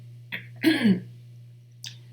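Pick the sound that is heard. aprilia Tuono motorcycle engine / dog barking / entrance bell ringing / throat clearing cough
throat clearing cough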